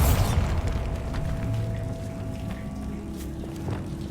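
A Bombarda spell explodes in Hogwarts Legacy with a deep boom that opens the clip, its rumble decaying under ambient game sound and faint clicks.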